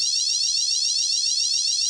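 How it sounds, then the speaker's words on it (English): A shrill, high-pitched fire alarm rings continuously, loud and steady with a rapid warbling pulse, and no voices. "is that a fire alarm?"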